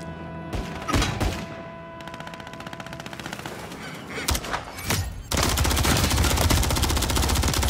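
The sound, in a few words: SMG gunfire in a shooter video game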